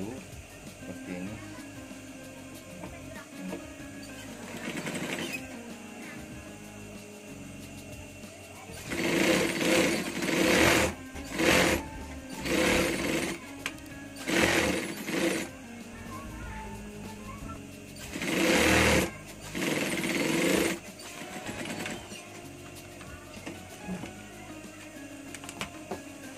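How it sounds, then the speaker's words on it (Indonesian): Sewing machine stitching the lining of a jacket hood, running in several short bursts of rapid mechanical whirring separated by quiet pauses, with a voice talking in between. "Selanjutnya kita jahit bagian puringnya ya."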